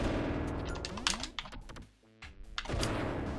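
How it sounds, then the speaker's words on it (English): Rapid video game gunfire and a grenade blast from Duck Game, dense overlapping bursts of shots, a brief lull, then another loud flurry of crackling fire. "I threw the grenade, it exploded midway, but then it exploded on me as well."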